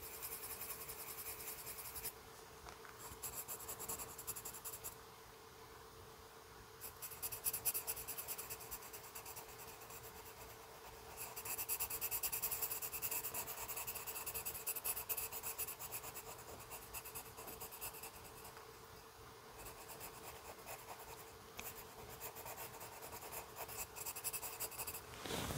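Sharp charcoal pencil scratching lightly and continuously across paper, a soft dry rasp that rises and falls in bursts of strokes, faint and close with no talking.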